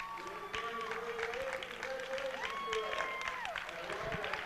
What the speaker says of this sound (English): Get a nice hand from the Friday night crowd here at the big gym at Ashland High School.